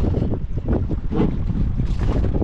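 Steady, loud wind buffets the microphone throughout, a constant rushing roar with no voices.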